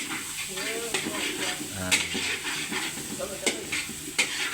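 Sliced onions sauté for a Batangas-style puchero, a steady soft sizzle in the pan broken by scraping stirring strokes, close and fairly quiet, with some talking over it.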